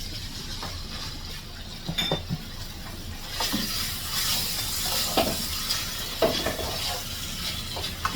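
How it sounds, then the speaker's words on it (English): Lobster sizzles in a hot pan as fried rice is cooked, with a steady frying hiss, occasional clinks and stirring sounds, and no talk. "And I know you guys can hear that sizzle."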